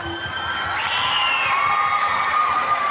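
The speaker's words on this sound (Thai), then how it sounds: "ปรบมือให้ผอวีรชัยหน่อยได้ไหมจ๊ะ" Students gathered at a Thai school cheer and shriek in a steady, loud crowd roar with high-pitched whoops, continuous throughout.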